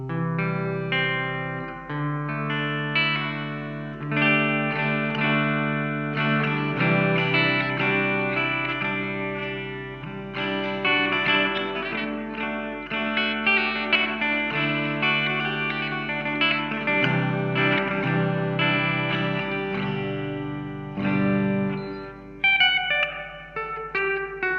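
Clean electric guitar chords and picked notes ring out through a Marshall MG30GFX combo amp with a wash of built-in reverb, steady and fairly loud, no voices.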